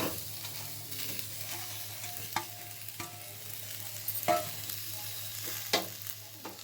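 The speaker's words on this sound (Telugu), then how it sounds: "కొబ్బరి కూడా వేయించేసుకోవాలి ఆనియన్స్ కూడా వేయించుకోవాలి" Chopped coconut and onions fry in a pan with a soft continuous sizzle, broken by several sharp scraping stirs of a spatula at irregular intervals; no voices.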